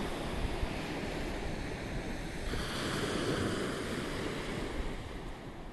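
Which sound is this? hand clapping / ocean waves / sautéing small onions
ocean waves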